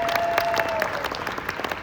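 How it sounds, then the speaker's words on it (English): Audience applause after a junior high school jazz honor band concert, a steady wash of many hands clapping at moderate level, with a few louder individual claps and a faint sustained tone early on. "Give them another round of applause."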